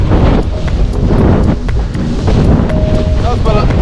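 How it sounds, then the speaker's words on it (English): A strong wind gust while windsurfing off Hayling Island, heavy buffeting roar across the microphone with sloshing water underneath, loud and close throughout. "There we go, there's the gust."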